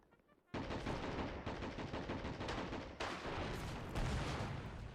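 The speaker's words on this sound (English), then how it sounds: "That is just shrapnel shot right there." Shrapnel shells and artillery barrage in a World War One trench warfare strategy game set at Belleau Wood, a dense, loud, continuous roar of rapid gunfire and blasts that starts abruptly and keeps pounding.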